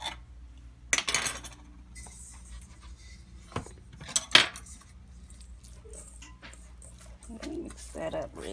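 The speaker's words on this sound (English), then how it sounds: "Mix that up really good." Basil leaves and garlic being stirred with a utensil in a bowl of pizza ingredients for an almond cauliflower crust, giving scattered clinks and scrapes against the bowl, some sharper knocks, with faint background noise and no clear talk.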